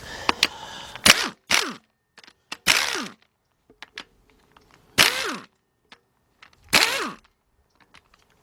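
Ratchet loosening 13mm bolts on the intake manifold of a 1999 Dodge Dakota Sport 3.9 V6 during an engine replacement; several short bursts of clicking and metallic clatter separated by pauses, close and fairly loud, with no talking.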